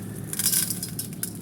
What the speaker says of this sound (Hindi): अब हम इसके अंदर डालेंगे चने की दाल